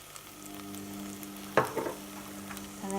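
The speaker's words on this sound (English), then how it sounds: "And then give that a mix around." A spoon stirs garlic, white pepper and oregano around a pot for cauliflower soup, giving a soft steady sizzle with one brief scrape of the utensil partway through, close and alone.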